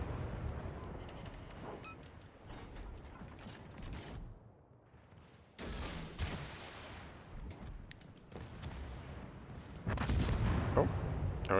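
Warship main guns fire in World of Warships, with heavy booms and bursts over mechanical creaking and ratcheting, likely from the turrets. The loud bursts come irregularly and grow louder and denser near the end.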